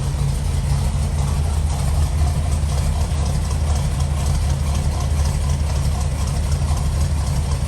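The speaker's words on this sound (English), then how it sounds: "I got it idling a little bit slower than I normally keep it, just so you can hear the cam." A 1981 Chevy C10 pickup's 305 small-block V8 with a new camshaft idles slow and loud, a steady deep rumble with a slightly lumpy, loping pulse and no talking.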